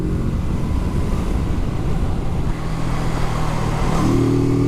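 A Kawasaki Z650 RS motorcycle engine drones loudly and steadily under acceleration, winding up gradually, with its pitch climbing toward the end of the run.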